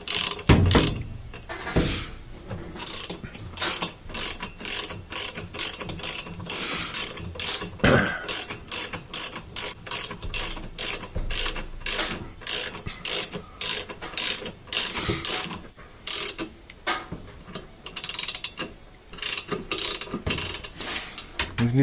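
Ratchet clicking in long runs while a rotor nut is tightened on an LG washing machine's metal drive shaft, with rapid close clicks in bursts and brief pauses, no talking.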